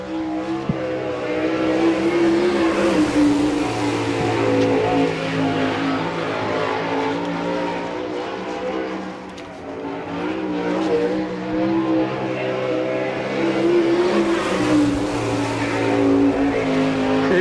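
Sprint race cars lapping at an All Star Circuit of Champions event in Chillicothe, Ohio: a steady, loud engine roar that drones continuously with rising and falling pitch as the cars circle.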